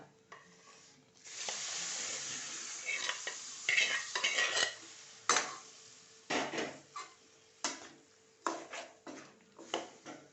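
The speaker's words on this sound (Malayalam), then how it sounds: "ഇതിനകത്തേക്ക് നമ്മൾ വേവിച്ച് വെച്ചിരിക്കുന്ന ചക്കക്കുരുവൊക്കെ ഇട്ട് കൊടുക്കാം." Cooked jackfruit seeds are tipped into a pan of sizzling masala for chakkakuru curry and stirred, bringing a burst of frying hiss followed by repeated close scrapes and clinks of a spoon against the pan.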